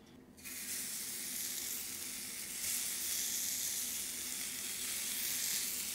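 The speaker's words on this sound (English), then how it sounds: "And now that my grill is smoking hot, I'm going to grill off my lamb skewers." Oiled lamb skewers laid on a smoking hot grill pan set off a sudden loud sizzle that swells and keeps hissing steadily.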